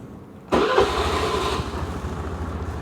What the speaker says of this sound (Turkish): Şu motorumuzu bir çalıştıralım.